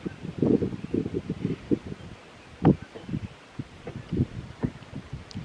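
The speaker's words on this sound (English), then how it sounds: "it's pretty windy out here today" Gusts of wind buffet the microphone outdoors, coming as repeated low irregular rumbles and thumps, with one sharper gust near the middle and no talking.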